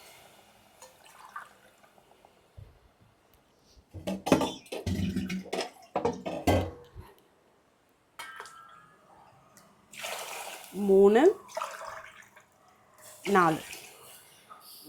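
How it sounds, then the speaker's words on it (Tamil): Water splashes and pours into a cooking pot for wheat rava khichdi in short bursts between stretches of a person talking, close by, with a louder pour toward the end. "ஸோ 4 கிளாஸ் தண்ணி ஊற்றிக்கலாம்."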